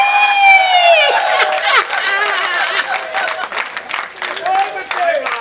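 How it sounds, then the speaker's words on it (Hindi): An audience at a Hindi kavi sammelan poetry recital bursts into applause and cheering, loud crowd clapping mixed with laughter and voices, under a man's speech that continues over it. "तालियां आप गलत जगह ही बजाते हैं"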